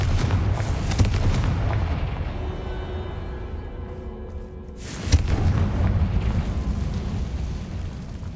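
A Confringo fire spell blasts in Hogwarts Legacy, a rumbling explosive burst followed by a second sharp boom with a crackling roar over low game ambience.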